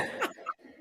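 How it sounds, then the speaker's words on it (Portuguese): A single quick cough, fairly quiet and close, with a bit of throat noise after it. "Deu uma tosse."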